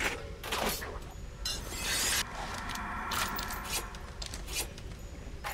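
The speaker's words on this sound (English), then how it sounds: "Gotta reload everything." Weapons being reloaded in the Bioshock video game, with a run of close mechanical clicks, ratcheting and metallic clatter, some sharp snaps and a brief rattling burst, and no talking.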